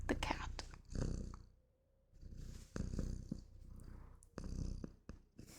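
A pet cat purrs while being petted, soft rumbling purr bursts rising and falling in an indoor room, with a person murmuring softly nearby at times.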